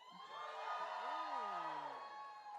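An a cappella competition audience gives a smaller, thinner cheer with a few whoops and screams, rising briefly and fading, while a voice glides audibly beneath it.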